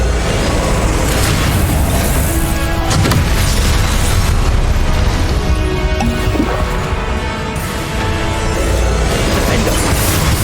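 Confringo fire-spell explosions in combat in Hogwarts Legacy, dense loud booms and crashes layered continuously over game music and battle noise with no pauses.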